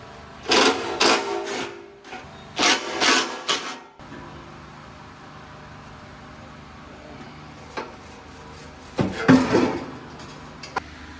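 A wrench undoes 13 mm fuel tank strap bolts under a 1996 Camaro Z28. It makes several quick bursts of rapid ratcheting clicks, close by, separated by quieter pauses.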